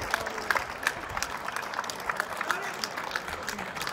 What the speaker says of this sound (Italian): gli fate un bel applauso, forte, forte, forte